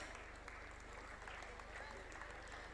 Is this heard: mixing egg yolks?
no